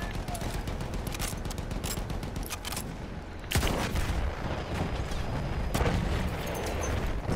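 Artillery barrage in Battlefield 1 conquest gameplay: a steady roar of gunfire and explosions, with a sharp loud blast midway and another burst near the end, continuous and dense throughout.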